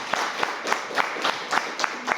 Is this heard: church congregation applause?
yes